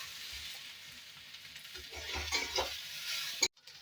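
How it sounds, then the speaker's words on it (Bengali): Banana stem fried with poppy seeds and a little sugar is stirred in a pan, a steady soft sizzle with scraping strokes of the spatula, close and moderately quiet, with no talking. "এইভাবে নেড়ে চেড়ে ভালোভাবে পোস্ত একদম পোড়ের সাথে মিশিয়ে নেবে, যাতে ভাজা ভাজা হয়ে মিশে যায়।"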